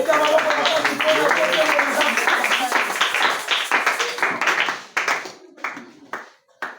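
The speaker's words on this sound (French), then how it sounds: "Acclamons très fort" A church congregation claps and cheers during an evangelical service, dense rhythmic clapping mixed with voices that thins into scattered, separate claps toward the end.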